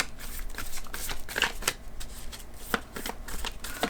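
Tarot cards being shuffled by hand, a run of papery riffles and slaps in uneven bursts, close by and moderately loud, with no talking.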